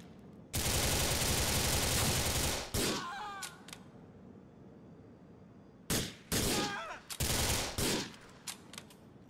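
Grand Theft Auto IV gunfight: a long sustained burst of automatic fire, then after a pause several more rapid bursts and scattered single shots, loud and close with brief quieter gaps.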